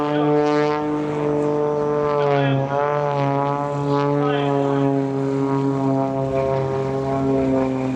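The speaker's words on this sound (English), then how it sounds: "the airplane he's flying in is the Extra 330/SS." Extra 330SS aerobatic competition airplane flying at an airshow, its propeller engine droning steadily and loud throughout with a sustained tonal hum that rises and falls slightly in pitch, no talking.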